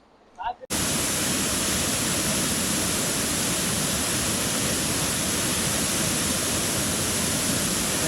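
Uyilatti waterfall near Ooty pours down in a loud, steady broadband roar that starts abruptly after a brief quiet moment and continues unbroken, close by.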